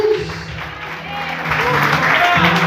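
Church congregation applauding during an evening service on forgiveness, a busy wash of clapping and crowd noise that rises toward the end, mixed with voices and music.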